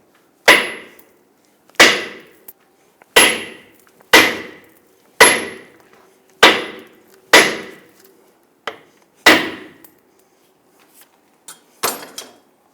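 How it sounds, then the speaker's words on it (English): A hammer strikes the front lower control arm of a 2000-2006 Toyota Tundra to separate it from the ball joint, about ten times at a steady pace, each hit sharp and ringing briefly. "I'm going to strike the control arm here to separate it from the ball joint."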